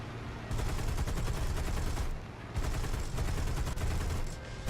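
Aircraft machine-gun fire in War Thunder: dense, rattling bursts of rapid shots over a steady engine drone, with two short pauses between long volleys.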